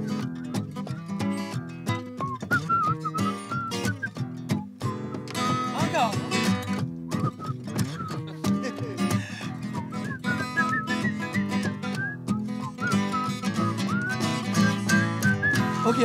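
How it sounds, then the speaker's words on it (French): A melodic whistled tune rises above busy, dense music, with bright pitched whistling running through most of the passage. "Solo de sifflet, monsieur le maire."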